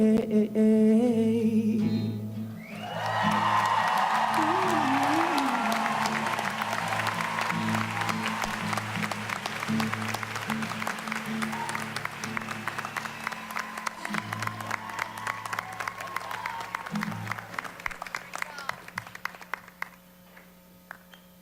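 Audience applause after a musical performance at a college commencement: music ends, then clapping from a large crowd builds and holds steady for a long stretch, under fading instrumental tones, gradually thinning out and tapering away near the end.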